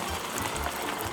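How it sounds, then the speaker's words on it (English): Starchy pasta water is poured into a pan of pasta sauce and gives a short, close bubbling, sizzling wash of liquid. "don't be shy to add the pasta water"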